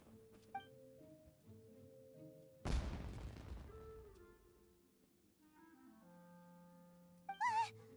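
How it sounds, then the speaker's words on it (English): A loud burst from a firework going off in Genshin Impact cuts through quiet game music, its crackle dying away over a few seconds, with a shorter pop near the end. "Was that an explosion? It sounded like fireworks."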